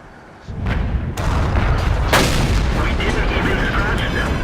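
Tank cannon fire in a tank video game with an M18 and T-29s: a sharp boom followed by sustained rumbling battle noise, loud and continuous.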